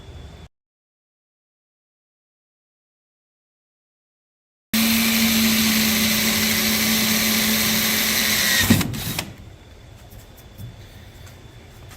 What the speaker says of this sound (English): mark the holes, and then drill them and screw them down